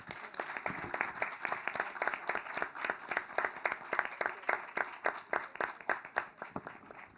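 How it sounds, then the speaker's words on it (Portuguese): A live audience applauds steadily at a literary festival talk, a dense wash of many hands clapping at an even, sustained rhythm for several seconds, with no speech over it. "eu quero pedir uma salva de palmas para Benigno Gaiga, Nicionelli de Carvalho e"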